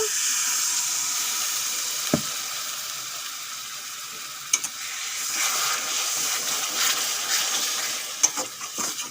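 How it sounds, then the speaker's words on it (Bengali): A splash of water goes into a pan of sizzling mutton curry, giving a steady broad hiss and sizzle throughout with a few brief sharp pops and crackles, close and fairly loud, with no talking. "সামান্য একটু জল দিয়ে দেব"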